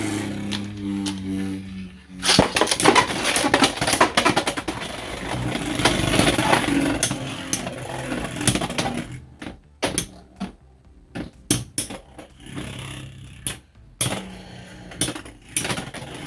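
Beyblade X spinning tops, including Hells Reaper and Phoenix Rudder, launched into a plastic stadium, a whirring grind with a burst of rapid clattering hits, then sharp scattered clacks as they knock together and die down.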